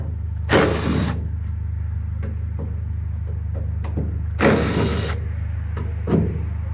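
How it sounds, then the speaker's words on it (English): Phillips mounting screws backed out of a truck taillight with a power driver, two loud whirring bursts near the mic with scattered small clicks and handling noises between them over a steady low hum. "you're going to remove the two mounting screws that hold the tail light in place"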